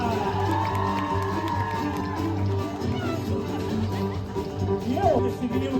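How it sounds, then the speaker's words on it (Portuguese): A crowd cheers and claps for a band member being introduced at a show, loud and continuous, with voices shouting and whooping and an amplified announcer talking over it. "uma salva de palmas, quero ver o fã-clube."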